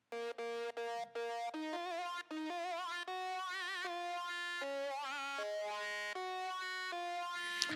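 A distorted wah synth patch from Synthage 1.4 for gospel production: buzzy, harmonically rich sustained notes with a wobbling, sweeping filter, played as a short phrase of changing pitches, loud and alone.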